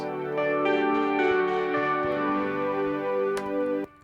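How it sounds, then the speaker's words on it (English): Sustained Rhodes electric piano chords with a warm, bell-like tone, held and shifting gently before cutting off near the end. "So all the keys sounds like this."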